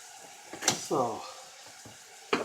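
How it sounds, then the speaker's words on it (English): A spoon stirs onions and spices in a hot pan, giving a low sizzle with a couple of sharp clanks against the pan, close and fairly quiet, with a brief voice sounding partway through. "let's give this another stir"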